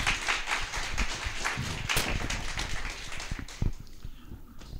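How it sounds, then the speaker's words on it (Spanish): An audience at a lecture on data processing systems communication gives a fairly faint round of scattered applause, a dense patter of claps that thins out toward the end. "Un aplauso, por favor."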